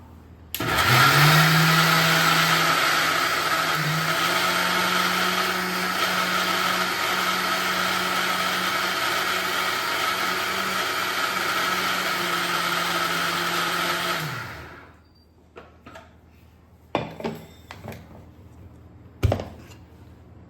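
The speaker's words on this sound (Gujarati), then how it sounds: "કઈ નહીં, ફરી એકવાર મિક્સર ચલાવી લઈએ" A mixer grinder runs at full speed, grinding soaked dal and rice into dhokla batter with a loud, steady whine for about fourteen seconds, then winds down and stops, followed by a few clatters of the jar.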